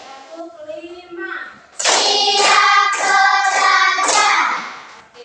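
Schoolchildren in a classroom clap their hands together in a quick run of sharp, close claps, mixed with young voices chanting along over the rhythm.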